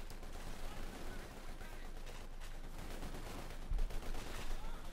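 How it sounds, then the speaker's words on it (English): Bren machine gun fire in the Company of Heroes 2 war game, dense, continuous, mid-distance battle gunfire with bursts layered over a steady din, growing louder near the end. "We also got Grenadiers still with a Bren machine gun."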